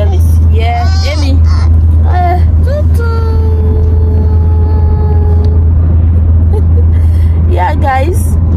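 Steady low engine and road rumble heard from the back seat of a moving car on the way to church, with people talking and a voice over the drone.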